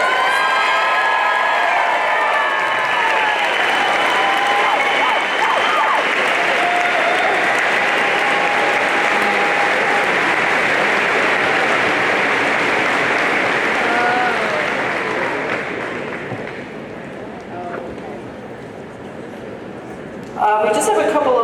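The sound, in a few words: audience applause for the graduates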